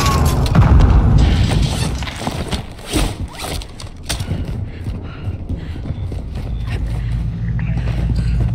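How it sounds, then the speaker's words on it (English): A grenade blasts in the Call of Duty DMZ shooter, a loud heavy boom up front followed by rumbling, thudding combat noise that keeps going at a steady level. "Grenade!"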